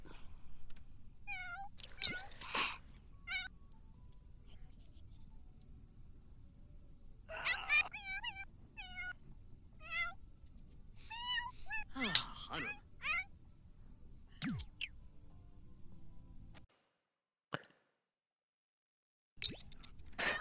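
Cat meowing in The Sims 4 game, with a sick pet cat: a run of short, high meows in several clusters, some drawn-out and whiny, close and clear with game sounds and clicks around them.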